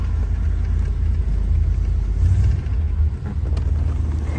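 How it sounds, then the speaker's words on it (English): Engine of a 1957 Imperial Southampton hardtop idling, a steady, deep low rumble heard close and continuous with slight fluctuations and no talk. "You turn your key to the on position and then press the neutral button on the gear shift selector. And that's what started the car."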